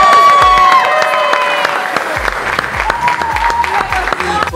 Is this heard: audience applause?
yes